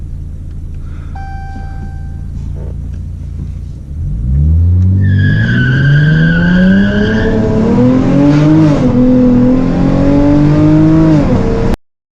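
A 2017 Dodge Challenger SXT Plus with a Solo Performance exhaust, in sport mode, idles after a few electronic chimes, then revs hard and accelerates, its loud engine note climbing and wavering before cutting off abruptly.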